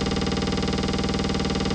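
An Elektron Rytm sample retriggered on every 32nd step and time-stretched becomes a dense, buzzing, rapidly pulsing drone, steady and loud throughout with no voices.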